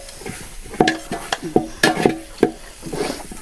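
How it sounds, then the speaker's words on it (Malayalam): A spoon stirs frying onions with turmeric, chili and coriander powder in a pan, giving irregular sharp scrapes and clinks over a steady low sizzle, close and fairly loud. "മഞ്ഞപ്പൊടി മുളക് പൊടി മല്ലിപ്പൊടി ഇട്ട് കൊടുത്തിട്ടുണ്ട് നല്ലപോലെ ഇളക്കിയെടുക്കട്ടെ"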